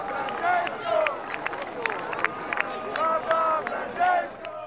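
A crowd of nearly 3000 faithful gathered outside the hospital for Pope Francis makes a steady murmur, with scattered cheers and voices rising in waves and bits of clapping, while a reporter talks over it.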